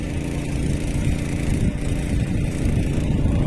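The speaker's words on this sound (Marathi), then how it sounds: "ते बघा तिकडनं ट्रॅक्टर घेऊन येतच बांधानं" A tractor approaches along the embankment of a muddy rice paddy during transplanting season in the Konkan region. Its engine drones steadily and loudly throughout, close by, with no talking.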